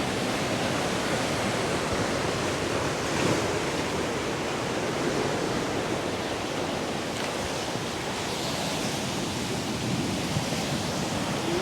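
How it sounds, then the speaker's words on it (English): Rough ocean waves break continuously on a Jamaican shore at Portland, a steady dense roar of surf with wind, loud and unbroken throughout with no talk. "The waves are a bit rough."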